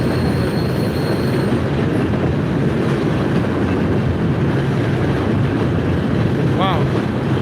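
A heavy train rumbles past close by, a loud continuous roar with rattling wagons and wind buffeting the microphone throughout.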